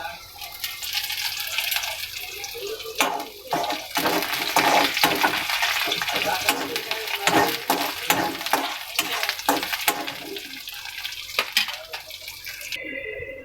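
Ginger and curry leaves crackle and spit loudly in hot oil, a busy sizzle with sharp pops and stirring scrapes throughout.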